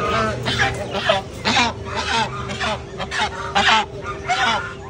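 Loud honking and quacking from several white ducks close by, overlapping in irregular bursts with crowd chatter and Hindi talk underneath.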